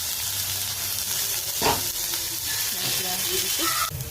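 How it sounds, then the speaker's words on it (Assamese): Onions hiss and crackle in hot mustard oil in a kadai, a steady close sizzle throughout with a brief louder burst as they hit the oil, and faint voices in the background. "এই কেৰাহীতে মিঠাতেল গৰম হল আৰু এতিয়া মই পিয়াজখিনি দি দিম"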